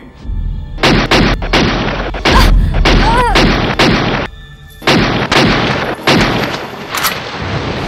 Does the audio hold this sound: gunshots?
yes